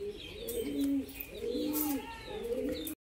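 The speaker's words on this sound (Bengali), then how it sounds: "দেখুন জোড়া পায়রা আছে" A pair of pet pigeons cooing close by in repeated rolling phrases, three or four soft throaty calls in quick succession.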